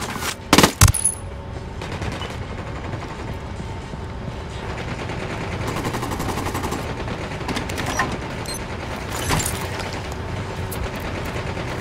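Gunfire in the Ghost Recon Wildlands video game: a few sharp close shots at the start, then sustained bursts of automatic fire and distant shooting continuing throughout.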